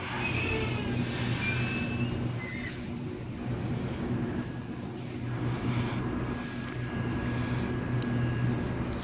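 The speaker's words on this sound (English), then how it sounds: "we have a Series 1 Waratah approaching platform number 2" A Sydney Waratah Series 1 electric passenger train arrives at Kingswood station platform at night, rolling in at a distance with a steady low rumble, faint wheel squeal and hum, no voices.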